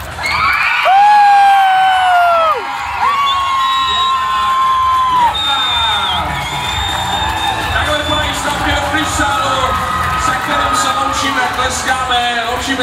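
Crowd at a Czech youth dance competition cheering and whooping loudly for a junior freestyle dance group, with children's shouts and sustained applause filling the whole stretch.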